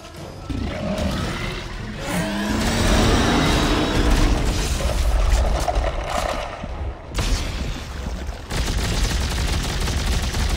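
Sustained, dense gunfire from Dead Space 3, loud and continuous with rumbling low end and brief dips, layered with game effects and roars.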